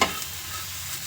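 Salted egg omelette mixture frying in a hot pan while being stirred, a steady close sizzle with light scraping, opening with a sharp clatter and then holding even, with no voices.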